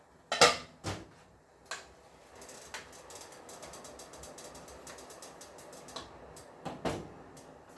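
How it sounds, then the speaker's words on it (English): Spam and cabbage cook in a pan while a utensil stirs them, making a few sharp metallic clanks and scrapes spaced irregularly over a quiet background. The sound is close but fairly soft, with no voices. "We'll give it a little stir."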